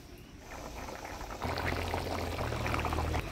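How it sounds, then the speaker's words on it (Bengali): Water pours into a pan of frying chicken curry, a steady splashing gush over bubbling that grows louder and fuller halfway through, close and with no voices. "মাংসটা আমি ভালোভাবে কষে নিলাম, এবারে জল দিয়ে দেবো।"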